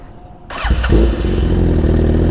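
Car engine at a drag strip starting line revving up before a launch, a close, loud sudden rise into a sustained roar with rapid revs, no talking.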